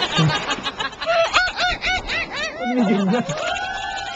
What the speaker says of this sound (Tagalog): Ay, yung mga ibon eh.